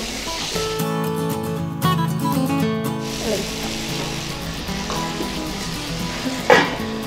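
Chicken keema fries with ginger garlic paste in a pan, a continuous bright sizzle with stirring scrapes and a clatter near the end.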